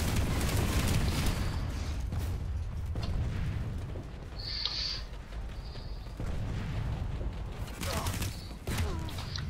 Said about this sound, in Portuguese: Toma-lhe a granada.